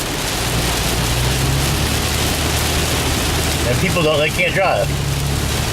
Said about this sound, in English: It's raining, we gotta go slow, I'm afraid.